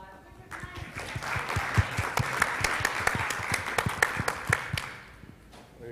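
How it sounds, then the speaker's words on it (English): Conference audience at an education event in Dubai breaks into applause, a crisp roomful of individual claps building quickly, staying steady for several seconds, then tapering off near the end. "Give them a round of applause."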